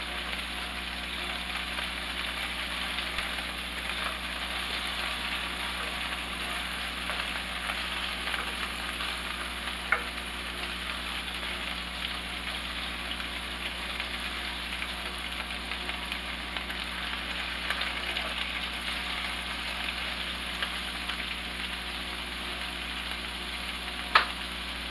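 Swedish meatballs brown in a hot pan with a steady, even sizzle that continues unbroken at moderate loudness, broken only by an occasional faint tap or clink, and no talking.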